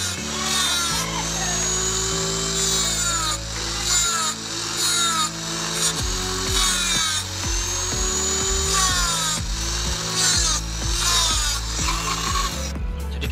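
A small steel part for a 1:16 scale RC truck driveshaft is cut slowly along a marked line with a power tool, giving a steady, loud grinding whine with shifting pitch that runs continuously.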